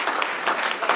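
Audience applause for event sponsors at a social media breakfast gathering, a steady dense wash of many hands clapping close and continuous throughout the short stretch.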